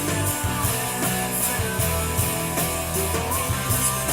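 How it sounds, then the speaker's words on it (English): A self-recorded chorus section plays back through a Behringer X AIR XR18 mixer, a full, dense band mix with steady drums and sustained tones running continuously at even loudness, no talking over it. "So sort of what you're hearing is just a chorus I recorded,"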